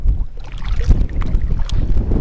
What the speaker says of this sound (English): it is mad windy out here